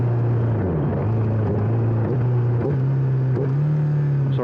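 Honda CBR1000RR Fireblade superbike engine accelerating, loud and close, with repeated rising revs through several gear shifts.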